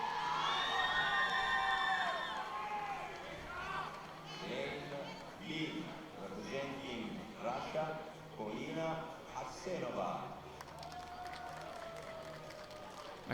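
Crowd cheering and shouting at a youth world championship climbing speed final in Arco, a loud roar at first that eases into steady murmuring with bursts of whoops, while a commentator talks over it.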